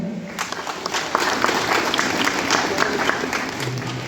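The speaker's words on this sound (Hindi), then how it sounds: "सभी बच्चों के लिए एक बार जोरदार ताली करें।" A church congregation at a confirmation service applauds the children, a dense, steady wash of many hands clapping close by, with some voices mixed in.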